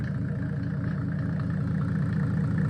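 A Mercedes OM603 3.0-litre diesel engine idles steadily up close, a loud, even low rumble with a constant mechanical clatter running throughout, no voices.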